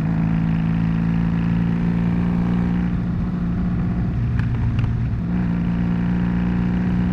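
A Honda Magna cruiser motorcycle rumbles loudly through a residential area, a deep steady engine drone with a brief throttle blip and dip midway before settling back to a constant close roar.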